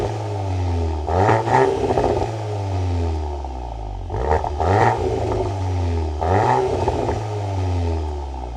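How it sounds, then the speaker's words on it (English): A 2025 Volkswagen Golf R Black Edition fitted with the optional Akrapovic titanium exhaust blips its engine three times from a steady idle, each sharp rev swelling loudly up close, crackling, then sinking back down, with no voices. "This is optioned with the optional Akrapovic titanium exhaust system, and it sounds pretty good"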